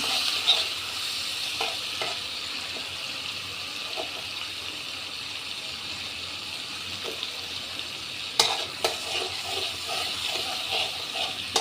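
Pre-fried shrimp coated in spices are stir-fried in a pan. A steady close sizzle and hiss runs throughout, broken by occasional spoon scrapes and a couple of sharper clinks near the end.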